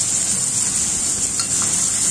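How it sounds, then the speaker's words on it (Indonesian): Anchovies frying in a small amount of hot oil, a loud, steady close-up sizzle with a faint scrape of stirring. "Setelah minyaknya panas, masukkan teri."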